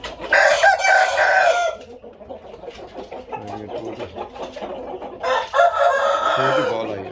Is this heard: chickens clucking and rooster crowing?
yes